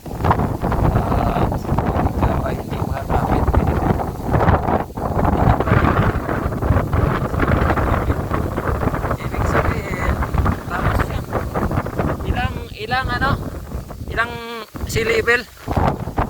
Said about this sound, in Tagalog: Basta hangin talaga.